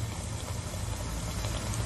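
Rice and rava snack batter fries in hot oil in a home kitchen, giving a dense, steady sizzling hiss with fine bubbling, close and continuous with no talk.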